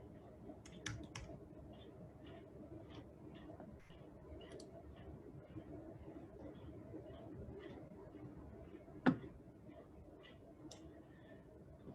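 Soft, scattered keystrokes on a computer keyboard, faint and close, with small irregular clicks spread across a quiet background and one sharper tap near the end.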